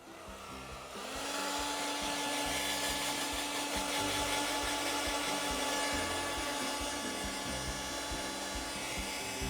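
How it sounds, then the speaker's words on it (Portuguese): Hair dryer switched on to dry paint, a loud steady whirring blow that starts about a second in and holds constant up close, no speech. "E aqui eu já poderia até passar o nosso secador."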